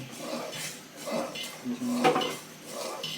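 A spoon clinks and scrapes around a pot of chicken corn soup, rhythmic metallic stirring strokes up close, with faint voices in the background.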